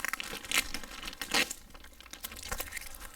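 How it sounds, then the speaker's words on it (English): Plastic packaging tape peeled off a boxed Chanson Miracle M.A.X. water ionizer, giving close crinkling and tearing bursts in a few separate pulls with quiet gaps between. "It's just sealed up with tape, so you can go ahead and pull this tape off."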